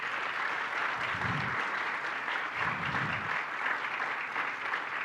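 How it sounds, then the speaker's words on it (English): A crowd claps steadily for several seconds, a dense, even wash of applause with no voices standing out. "Let's offer a round of applause."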